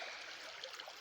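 A brook trout creek flows nearby in a steady, soft rush of water that is faint but constant, with no voices.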